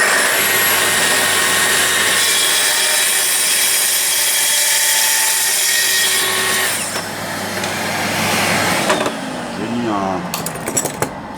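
A power saw cutting wood for an outdoor deck whines loudly and steadily for several seconds, then cuts off, followed by scraping and a few metallic clinks up close.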